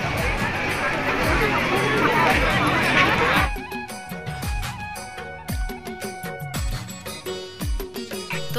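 Crowd chatter at a wedding reception, a thick hubbub of voices for a few seconds that then gives way to music with beats while the chatter continues beneath.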